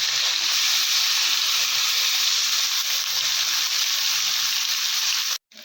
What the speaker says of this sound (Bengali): এখন মাছগুলো নুন হলুদ দিয়ে মাছগুলো ছেড়ে দেবো।